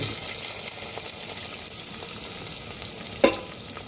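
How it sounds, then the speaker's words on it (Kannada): Chopped onion and capsicum sizzle in a frying pan with cashews and oil for coconut milk pulav, a steady close frying hiss with faint stirring and a sharp utensil knock near the end. "ಸೊ ಈ ಹಂತದಲ್ಲಿ ನಾನು ಹೆಚ್ಚಿರುವಂತಹ ಈರುಳ್ಳಿ ಮತ್ತು ಕ್ಯಾಪ್ಸಿಕಮನ್ನು ಹಾಕ್ತಾಯಿದ್ದೀನಿ"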